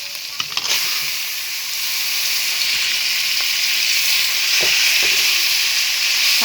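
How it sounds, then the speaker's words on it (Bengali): Pieces of kankan sea fish go into spice masala frying in a pan, a few soft thuds and scrapes over a steady sizzling hiss that swells as the fish settles in, close by and with no speech. "হালকা হাতে আলতোভাবে এভাবে মাছগুলো ভালোভাবে বসিয়ে দেব।"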